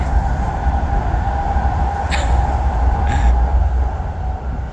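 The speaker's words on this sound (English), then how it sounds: "that's another bullet train going by" Japanese bullet train passing by, a steady loud rumbling roar with a high whine running throughout and two brief hissing bursts, no talking.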